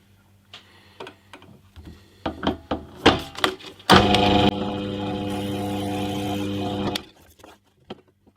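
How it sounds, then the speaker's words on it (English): Several hollow taps and knocks, then a drill runs steadily into wood of a hollow-body guitar part for about three seconds before stopping, followed by a couple of faint clicks. "I'll just drill some of this out first to make it a little bit easier"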